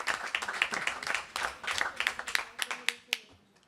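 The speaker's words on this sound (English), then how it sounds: "Give them a round of applause." A small audience clapping for student performers at a school board meeting, a brief patter of scattered claps from a modest crowd, fairly faint and tapering off.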